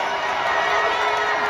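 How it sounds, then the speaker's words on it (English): A wrestling arena crowd at a WrestleMania preview dark match roars and cheers in a dense, sustained wall of noise. "Kofi now trying to get the crowd alive here."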